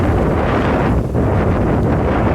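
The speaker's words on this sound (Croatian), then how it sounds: "Ali vjetar ubija" Strong wind buffets an outdoor microphone in a steady, loud roar for the whole stretch, dipping briefly once, with no voices.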